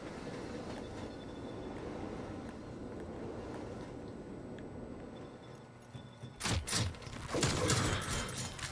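Video game train roaring past, a steady rumbling clatter that builds into loud, harsh bursts of grinding and impact noise near the end.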